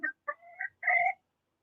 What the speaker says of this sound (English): Chickens love to balk and talk with all of their friends